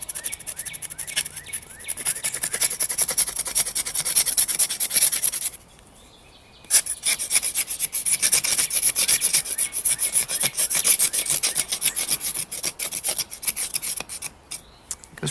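A blade tip held perpendicular scrapes bark off crepe myrtle wood in small, rapid motions, a dense continuous rasping that pauses for about a second and then resumes, close and loud.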